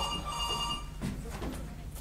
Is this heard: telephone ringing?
yes